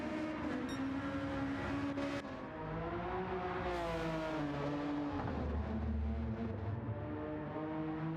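A race car engine at Road Atlanta holds a continuous loud drone as the throttle is feathered through the esses, its pitch rising and dipping in gentle waves without a break.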